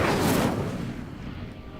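A burst of flame from the Incendio fire spell in Hogwarts Legacy, a loud whooshing roar that swells at once and then fades into a low rumbling tail.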